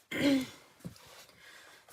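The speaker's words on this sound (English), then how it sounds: "Let me clear my throat and get a drink of water" A short, rough throat clearing up close, followed by a couple of small breathy sounds and a final quick exhale.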